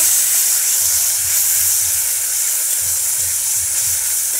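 Spice paste sizzles steadily while sautéed in a pan for a village-style egg, cauliflower and potato curry, a constant broad hiss with faint low bubbling throughout.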